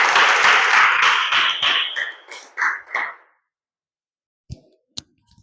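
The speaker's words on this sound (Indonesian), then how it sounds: "Beri tepuk tangan kepada mereka." A classroom of students applauds a student group. Dense clapping for about two seconds thins into a few scattered bursts and then stops, followed by a couple of sharp taps near the end.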